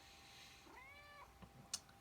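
A single cat meows once, a short, faint rising-and-falling cry from nearby in a quiet indoor room, followed by a couple of soft thumps and a brief sharp click.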